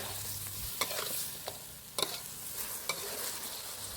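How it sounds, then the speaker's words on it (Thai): Fried mackerel is stir-fried with curry paste, basil and red and green chilies in a hot pan, giving a steady soft sizzle with several sharp scrapes and clinks of a spatula. "ใส่เครื่องครบทุกอย่างแล้วก็ผัดต่ออีกครั้งไม่ต้องนานนะครับ"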